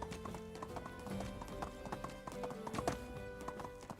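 Horse hooves clip-clopping at a steady gallop rhythm in the medieval survival game Medieval Dynasty, close and continuous for several seconds with faint game ambience and a brief neigh.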